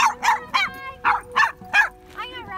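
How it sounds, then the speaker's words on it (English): Several dogs on a walk across flood plains give a rapid run of sharp, close barks and yips, about seven quick bursts in under three seconds, with no speech between them. "I know you're excited to be with all these dogs."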